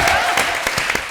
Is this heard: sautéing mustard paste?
no